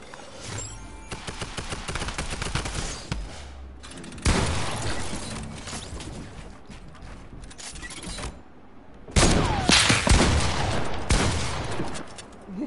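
Rapid bursts of video game gunfire from an online duos shooter match crackle loudly in dense volleys, pausing briefly before another heavy flurry of shots near the end.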